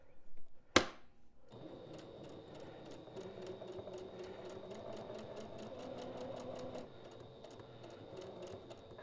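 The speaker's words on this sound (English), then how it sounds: "I'm going to sew the rest of the way around this large end." A sewing machine runs a steady, rapid stitching line around the large end of an elastic fabric headband after one sharp clack at the start, a continuous, even mechanical whir that stops near the end.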